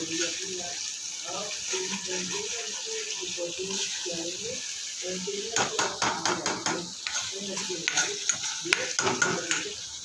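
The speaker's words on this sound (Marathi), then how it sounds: "असा छान फ्राय मसाला करून घ्यायचा तेलामध्ये, मस्त असा फ्राय करून घ्यायचा" Masala frying in oil for a fish curry gives a soft sizzle under a spoken voice, with quiet stirring scrapes growing more frequent and clattery in the second half.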